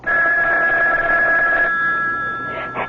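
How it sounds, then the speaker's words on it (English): A telephone rings in an old CBS radio mystery drama, a steady loud electric bell tone sounding alone for about three seconds with no voices over it. "Oh, that's the phone, Parker."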